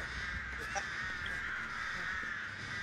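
Crows caw from the Dead by Daylight game, a few faint calls around the first second over a steady droning game ambience with low rumble, no clear talk.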